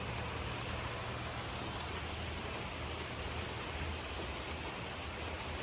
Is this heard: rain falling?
yes